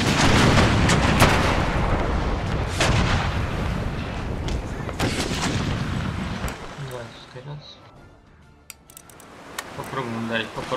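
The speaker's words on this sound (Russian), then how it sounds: "Мушкетная стрельба пошла." A dense, rumbling barrage of musket volleys in the video game Empire: Total War roars continuously, then thins out into scattered cracks and metallic clinks, with voices talking underneath.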